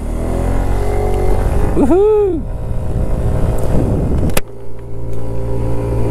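A Kymco scooter engine revs up with a rising, swooping whine over steady road rumble, then a sharp knock, a brief shout, and continued engine drone.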